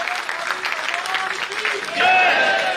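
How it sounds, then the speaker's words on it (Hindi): An audience at a Rajasthani felicitation event claps loudly and steadily as a turban is presented, the applause swelling near the end, with a voice and some tonal sound faintly over the clapping. "जोरदार तालियां"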